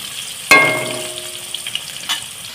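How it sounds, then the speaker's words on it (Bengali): Potato pieces frying in hot refined oil for a chicken roast curry, a sudden loud burst of sizzle as they hit the pan, then a steady crackling hiss that fades slightly, with a couple of faint stirring clinks. "আলুটাকে আমি একটু লাল লাল করে ভেজে নেবো"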